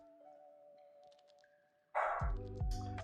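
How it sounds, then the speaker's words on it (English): A dog barks loudly indoors, with several close, forceful barks breaking in abruptly after a quiet stretch of faint tones. "You hear the dog barking?"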